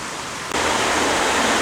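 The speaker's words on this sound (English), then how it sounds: "There are several places where there are small waterfalls like that." Steady, broadband rushing water from a small waterfall along a narrow trail in Duluth, Minnesota, jumping suddenly louder partway through, like standing close by.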